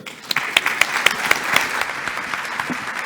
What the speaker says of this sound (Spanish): Le vamos a recibir con un fuerte aplauso, por favor.